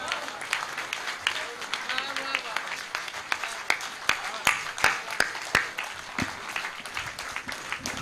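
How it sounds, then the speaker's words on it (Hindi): An audience applauds after a Hindi poem recitation at a poetry gathering, with sharp, scattered claps that grow denser midway over a busy background of crowd noise and voices. "कि आपको कहना नहीं पड़ा कि अच्छी कविता के लिए तालियां कैसे बजाई जाती हैं"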